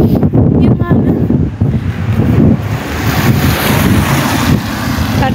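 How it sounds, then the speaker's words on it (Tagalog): Strong cold wind buffets the microphone in loud, rough gusts, with a low roar and a wash of water-like noise underneath throughout. "Ang lamig ng hangin."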